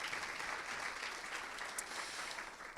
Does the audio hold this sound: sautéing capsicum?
no